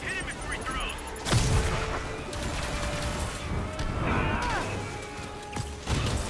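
Crackling electric zaps and heavy impact bursts from Spider-Man electrocuting enemies in a video game, a dense run of sharp cracks and crashes with a big hit near the start and more toward the end, over layered game noise.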